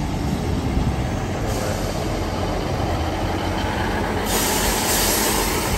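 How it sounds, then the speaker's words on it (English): A diesel multiple unit train's steady mechanical rumble fills the scene, with a brighter hiss swelling near the end as it idles and moves at a platform. "158902"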